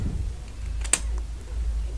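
A few faint keystrokes on a computer keyboard, with one clearer click near the middle over a steady low hum and no voices.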